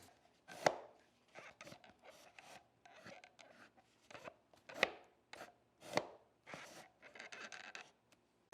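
Quiet clunks and short scraping slides of an Autonomous ErgoChair 2 office chair armrest, irregular knocks and rubs spaced a second or so apart, close by.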